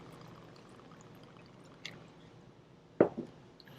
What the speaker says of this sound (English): Do about a 2-ounce pour of some bourbon or whiskey.